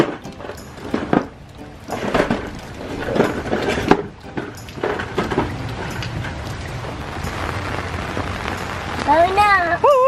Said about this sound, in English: Oh, it's cold and rainy out.